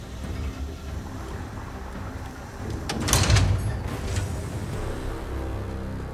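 In the Call of Duty Vanguard game, a door is forced open with a sudden heavy burst about halfway through. The burst rises out of a constant windy, rumbling background and then settles back into it.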